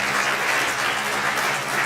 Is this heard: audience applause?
yes